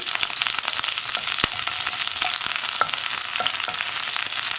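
Curry leaves and chopped ginger frying in coconut oil for a country-style egg curry, a loud, even sizzle with occasional sharp crackles and pops, close up, with no talking.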